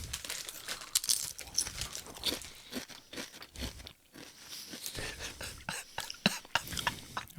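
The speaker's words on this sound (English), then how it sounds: "You can put your hand in the bag there" A hand rummages through a crinkly bag, giving off irregular loud crunching and crinkling bursts over several seconds, close to the microphone, with short gaps between them and a cough or throat noise mixed in.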